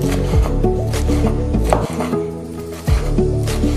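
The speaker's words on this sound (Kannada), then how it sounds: "ಮೆಂತ್ಯ ಸೊಪ್ಪನ್ನು ಕೂಡ ಕಟ್ ಮಾಡಿಕೊಂಡಾಯಿತು." A knife chops fenugreek (methi) leaves on a board for methi thepla, steady close cutting strokes mixed with background music.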